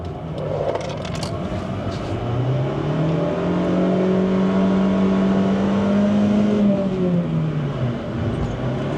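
A Honda Jazz's small engine drones steadily with a slipping clutch, its pitch rising and falling as revs climb without matching acceleration, loud and close throughout.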